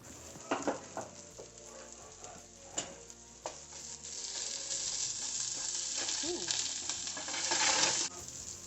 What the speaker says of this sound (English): Now add the garlic and ginger and cook, stirring until fragrant about 1 minute.